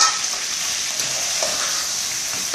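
Chicken pieces fry with ginger-garlic paste and spices for butter chicken, giving a steady, close, even sizzle throughout with no talking.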